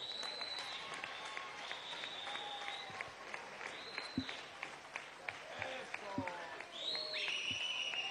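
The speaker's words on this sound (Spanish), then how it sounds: "Vengan para acá, pa, y me dan un aplauso entre todos." Applause from a crowd at a large event with Venezuela's president, a faint spread of clapping with scattered sharp claps beneath cheering voices and people talking.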